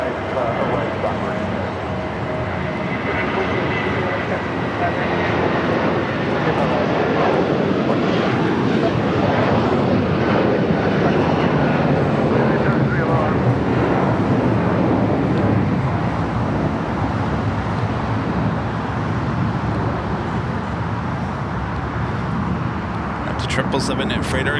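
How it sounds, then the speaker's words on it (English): A DHL Boeing 777 freighter on Polar Cargo Flight 962 roars steadily at Los Angeles International Airport, a broad, loud jet-engine rush sustained throughout with no pause. "777 freighter DHL Polar Cargo Flight 962"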